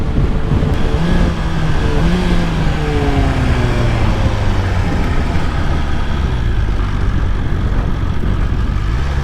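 A 2025 BMW M1000XR motorcycle engine pulls hard through its revs on a first ride, a steady loud drone whose pitch climbs in long sweeps under heavy wind rush.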